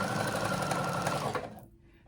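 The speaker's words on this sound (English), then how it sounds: "I go over my sewing machine and I make it a zigzag stitch, and I zigzag stitch that seam" A sewing machine running a zigzag stitch along a dress seam, a steady close mechanical whir that cuts off abruptly near the end.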